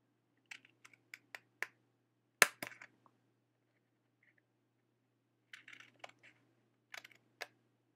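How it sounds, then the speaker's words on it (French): Scissors cutting along the lines of a paper card for a woven card craft, a scattering of small crisp snips and clicks in short clusters, close and quiet in an otherwise silent room. "on va tout simplement découper en suivant les traits"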